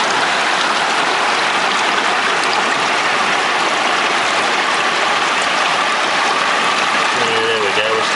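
Water swirls and splashes steadily in a gold pan during a vigorous backwash at the Shoalhaven River, a continuous loud wash with a voice speaking briefly near the end.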